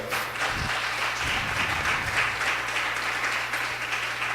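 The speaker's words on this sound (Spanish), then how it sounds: "Gracias por su aplauso para el Señor." Congregation applauding during a Spanish-language church service, a steady wash of clapping throughout with a low background hum underneath, moderately loud and continuous.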